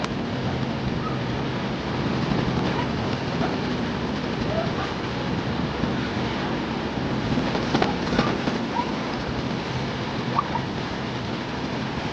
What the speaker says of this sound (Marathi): फायनली ट्रेन चालू झाली